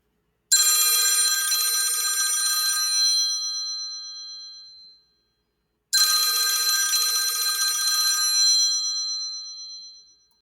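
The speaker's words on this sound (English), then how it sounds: "I got a phone call." A telephone bell rings in two long bursts separated by a pause, each loud, bright trill fading out before silence.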